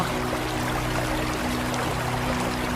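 A cartoon boy sinking in water brings a steady, dense rush of splashing and bubbling water that holds at an even, fairly loud level throughout, with a faint constant hum beneath and no speech.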